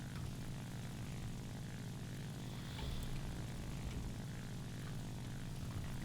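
Propeller engine of a Ki-94-II aircraft in War Thunder, a steady loud droning hum that holds continuously throughout with a slight swell in the middle.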